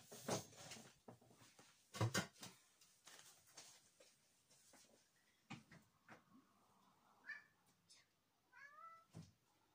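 A house cat meows at a door, several short cries coming near the end among thumps, knocks and clatter. Earlier there are brief bursts of human voice and handling noise.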